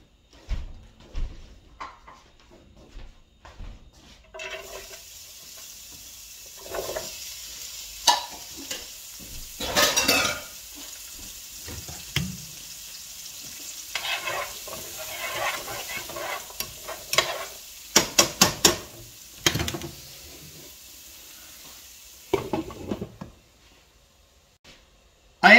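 Onions and carrots frying in a pan, with a steady soft sizzle broken by scraping stirs and clacks of a utensil against the pan, close by and with no talking.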